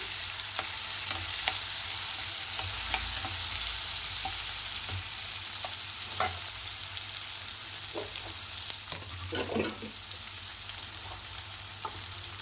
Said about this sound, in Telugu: ఒక చిన్న స్పూను అల్లం వెల్లుల్లి పేస్ట్ అవి పచ్చి వాసన అయ్యే వరకు ఫ్రై చేసుకోవాలి